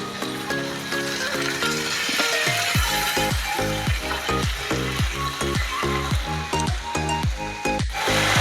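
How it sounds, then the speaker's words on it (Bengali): Bombay duck fish fry in a pan with turmeric and Kashmiri chilli powder, a loud continuous sizzle with repeated scraping stir strokes throughout, close and steady with no talk. "ভালো করে নাড়াচাড়া করে নিতে হবে বারে বার লোটে মাছগুলোকে"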